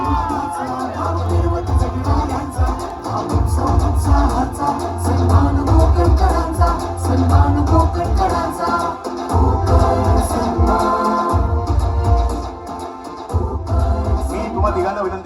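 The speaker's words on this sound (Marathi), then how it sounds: "जोरदार टाळ्या वाजवा सिद्धेशसाठी" Audience applauding an award winner at a Sindhudurg Konkan honour ceremony, a loud, sustained crowd roar with cheering and whoops continuing throughout.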